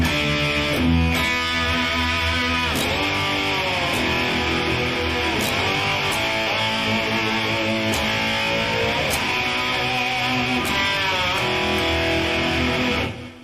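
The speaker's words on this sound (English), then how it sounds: "I like to just kind of pull anything that I can with the whammy, and you can get kind of a slide guitar sound" Distorted electric guitar bent with the whammy bar, notes swooping up and down in pitch like a slide guitar, a long sustained run of gliding phrases, loud and close with no talk.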